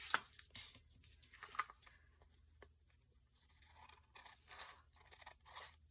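Scissors trim glue-covered material in a series of quiet, irregular snips and scrapes, with short bursts spaced through the clip and no talking.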